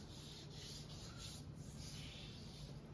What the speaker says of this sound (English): You're just giving it a light sand, eh?